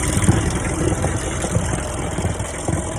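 A feeder tractor's engine idling in the cold, a steady close mechanical chug with a faint knocking rhythm, running alone without voices.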